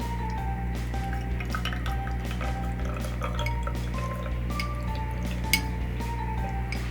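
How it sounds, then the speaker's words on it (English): Homemade makeup setting spray liquid poured into a bottle, a close, steady trickling with small drips and faint clinks of glass and utensils, no speech. "So we're gonna pour this into our bottle."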